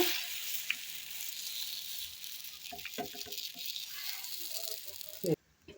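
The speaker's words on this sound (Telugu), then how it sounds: "ఇలా దోసపిండి మీద వేసేసుకుని కాల్చుకోవటం" Jowar (sorghum) flatbread roasting on a hot iron dosa griddle over a stove gives a steady close sizzle and hiss, broken by a few soft taps and scrapes, before cutting off abruptly near the end.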